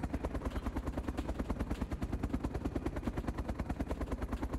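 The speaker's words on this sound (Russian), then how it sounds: "Слышу, верт работает." Helicopter engine running in a shooter video game: a fast, steady rotor thump with a deep pulsing drone, constant and moderately loud, with no talk.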